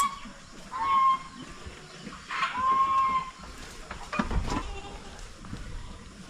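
Goats on a Philippine farm bleat a few times at moderate distance, scattered short calls over quiet rustling and background ambience, with some faint voices.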